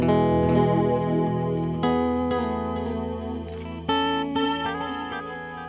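Electric guitar notes ring out through a shimmering chorus and delay effect from a Phantom Sounds Analog Drift pedal, sustained chords with a few fresh strums, no voices.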